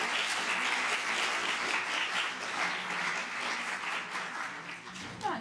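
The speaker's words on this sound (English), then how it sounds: "So let's give an applause to our panel." An audience at a soil biodiversity conference finale applauds its panel, dense clapping holding steady for about five seconds before thinning out at the end.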